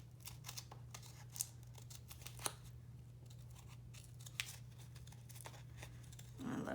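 Small decorative-edge scissors snipping paper for scrapbook pocket pages, faint irregular crisp cuts over a low steady hum, quiet and close.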